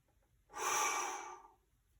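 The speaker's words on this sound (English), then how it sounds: "Breath in. Blow it out." A single deep breath taken in and pushed out forcefully during a standing mountain-pose exercise in a gym class, one close, breathy exhale lasting about a second with no talking.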